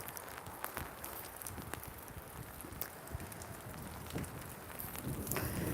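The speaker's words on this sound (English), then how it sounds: "Oh my God, that rain." Steady rain patters on a hard outdoor surface while someone walks down steps, with scattered close footfalls and drops over a constant wash of noise and no talking.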